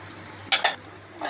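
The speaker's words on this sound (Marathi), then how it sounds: "अद्रक लसूणची पेस्ट घालणार आहे कोथिंबीर टाकून केलेली पुन्हा परतून घेणार आहोत तेलामध्ये" Ginger-garlic paste and masala sizzling in hot oil for mutton sukka, with two sharp stirring scrapes of a spoon against the pan and a rising hiss near the end over a steady low background.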